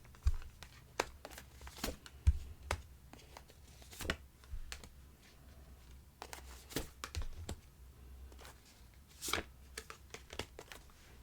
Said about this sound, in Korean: 바로 지금 조언 카드를 뽑아볼게요